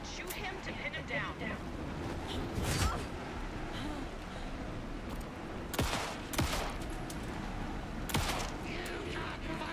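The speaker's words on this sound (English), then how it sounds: "Shoot him to pin him down." Scattered gunshots in the Alan Wake 2 video game on PC, a few sharp reports at intervals over a steady rumbling ambient bed, with voices talking through the scene.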